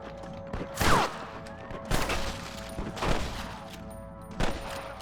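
Gunfire in the Red Dead Redemption video game: several sharp shots ring out roughly a second apart, each with a short tail, over a low steady background hum.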